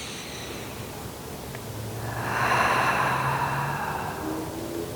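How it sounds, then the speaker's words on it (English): A single slow, deep breath during a seated Pilates routine, a soft nasal inhale swelling into a louder airy exhale through the mouth, close and unaccompanied by talk. "Nice big inhale, and exhale."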